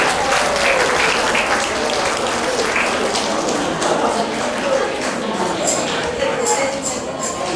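A church congregation claps through a Sunday worship service, a dense, sustained round of applause that stays loud for several seconds before thinning slightly, with scattered sharper claps near the end.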